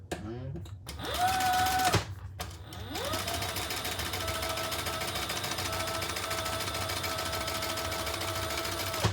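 A sewing machine stitches a crossbody bag with a steady, close mechanical whir: a short burst first, then a long continuous run of stitching.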